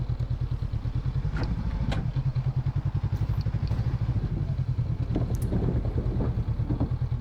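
A Honda CB500X motorcycle boards a ferry, its engine running with a steady, rhythmic low thrum and occasional clattering knocks as it rolls onto the deck, close and continuous throughout.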